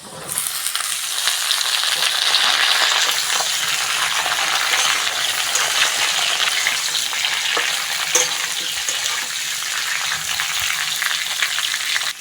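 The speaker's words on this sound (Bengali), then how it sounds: "আলুটা ভালো করে ভেজে নিয়েছি এবার ঝিঙেটা দিয়ে দেবো কেটে ধুয়ে নেওয়া ঝিঙে" Potatoes and ridge gourd frying in a pan for a Bengali posto dish, a loud, steady, close sizzle with occasional stirring clinks throughout.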